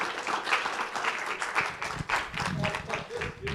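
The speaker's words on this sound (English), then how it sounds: "Let's give them all a round of applause." A small audience at a talk on love languages gives a round of applause, moderate clapping with uneven swells, fairly quiet and mixed with some room sound.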